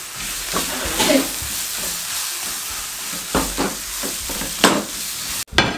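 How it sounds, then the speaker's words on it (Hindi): Spiced mashed potato filling for tawa aloo naan being stirred in a pan after the flame is off, a soft scraping and shuffling with a faint steamy hiss and several sharper spoon knocks, moderately close. "शामिल करने के बाद अच्छे तरीके से मिक्स कर लेंगे।"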